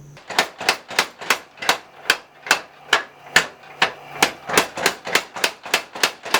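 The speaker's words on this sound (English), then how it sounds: "of course, the power hammer." A power hammer forges a 1-inch steel bar tenon for medieval andirons in a blacksmith shop, striking in a fast, steady rhythm of sharp metallic blows, close and loud with no talking.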